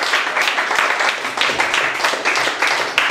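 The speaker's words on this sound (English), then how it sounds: "We'll just have one more round of applause for all our readers, Greg Masters, Micaela Foley, Ashley Hefnawy" An audience at a poetry reading claps steadily, a dense, close round of applause holding at an even level throughout without fading.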